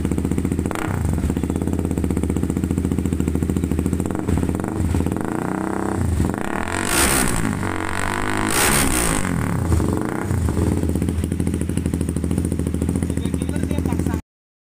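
A KTM Duke 200 motorcycle fitted with a silencer and double dB killer revs loudly and repeatedly, its rough exhaust roar rising and falling close by, without any talking.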